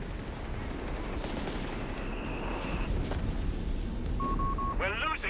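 Rattling gunfire and distant blasts from a Company of Heroes 3 battle between Afrika Korps and British forces, dense bursts crackling under continuous game voice lines and radio chatter, with a short tonal alert near the end.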